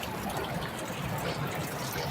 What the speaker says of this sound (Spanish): Ahí tenemos una duchita para que te puedas lavar los pies